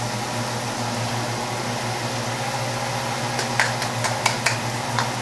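Chili powder, ancho chili powder and paprika hit hot oil for chicken chili, giving a steady broadband sizzle under a low kitchen hum, with a few sharp utensil clicks and taps near the end as the mix is stirred.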